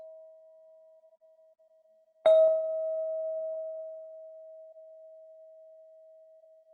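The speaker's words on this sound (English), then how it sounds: "Just stay with the sound of the bell." A meditation bell is struck once during a mindfulness session, giving a clear, close ring that fades slowly over several seconds above a steady pure tone, with no voices.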